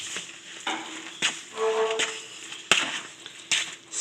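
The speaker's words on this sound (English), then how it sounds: "And I'm just going to stir it all up." Seasoned steak pieces are stirred in a pan to coat them, giving repeated scraping and clattering strokes over a light sizzle, close and fairly loud.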